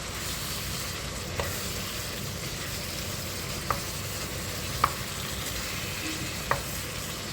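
Courgette and chicken, seasoned with garlic powder, sizzle quietly in a pan while being stirred, a soft steady frying hiss broken by a few light spoon clinks on the pan.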